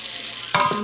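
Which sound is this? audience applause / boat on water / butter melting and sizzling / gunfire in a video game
butter melting and sizzling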